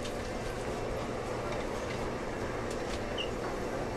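A Taipei Metro Tamsui-Xinyi line steel-wheel train bound for Beitou at Taipei Main Station, heard as a steady, loud rumble of rolling stock filling the whole stretch, with no talking.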